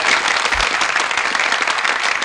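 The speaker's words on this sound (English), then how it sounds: "Don't you dare applaud that." Crowd applause from the stands of a fantasy-football video game match, a steady dense clapping wash that fills the whole stretch at close, even loudness with no speech over it.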